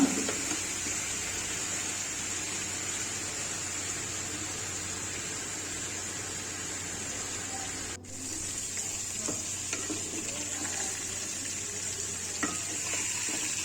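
Bitter gourd with shrimp sizzles uncovered in a frying pan on a lowered flame, a steady close hiss of frying with one brief sharp knock partway through and faint scrapes after it.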